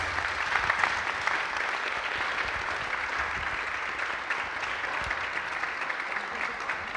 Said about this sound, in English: a big round of applause for our presenters